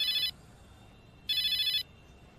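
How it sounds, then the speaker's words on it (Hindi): A mobile phone ringtone plays in two short electronic bursts separated by a second of quiet, fairly clear against a low background hum. "आपका फोन बज रहा है।"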